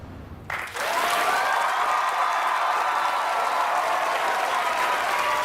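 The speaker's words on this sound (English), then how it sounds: "I like this clap track." A canned applause clap track breaks out abruptly after a brief pause and continues as dense, steady clapping from a large crowd, loud and uninterrupted to the end.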